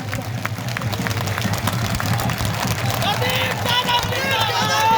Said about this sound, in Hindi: सबकी तालियां बजनी चाहिए